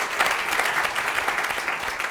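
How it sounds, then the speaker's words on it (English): Steady, loud applause from a seated audience at a talk with startup founders, dense overlapping claps filling the whole moment without voices. "So another round of applause"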